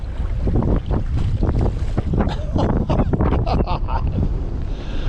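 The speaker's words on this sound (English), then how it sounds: "This wind is ridiculous." Strong wind howls over a lake in December, buffeting the microphone with a loud, continuous roar and gusty bursts, while water laps around a fishing kayak.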